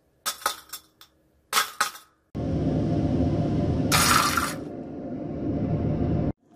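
Chlorosulfonic acid added to water reacts violently with a sustained loud hissing, bubbling roar lasting several seconds, with a sharper burst midway, after a few clinks of glassware.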